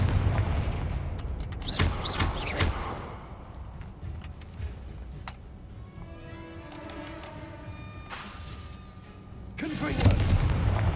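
Confringo blasting spell explosions in Hogwarts Legacy, heard as several loud bursts, one early pair, another around two seconds and a final blast near the end, with quieter game sounds and ringing tones between.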